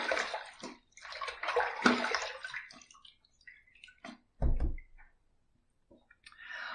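Running water rinsing during a wet shave with a Yaqi Tile razor head on a bolt handle, splashing and pouring in uneven bursts with short gaps, close and fairly quiet.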